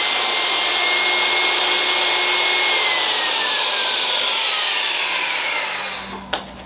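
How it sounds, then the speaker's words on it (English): A power saw whines loudly and continuously as it cuts through a 24-inch wooden board for a workbench, then the motor winds down and a sharp clack ends it. "I'm going to need to cut 4 more 24-inch boards."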